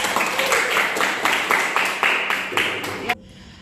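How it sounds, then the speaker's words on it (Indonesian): A group claps together in a rhythmic, synchronized pattern of about a dozen beats at a classroom teacher-training session, fairly loud and close, then stops abruptly. "mari beri tepuk tangan kepada kita semua"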